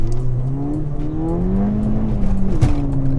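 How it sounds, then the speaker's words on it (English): A Ford Fiesta ST pulls hard from a standstill, its engine note climbing loudly through first gear with a steady rising drone, close and continuous, then a sharp blip near the end as it shifts. "We wheel span pretty much all the way through first"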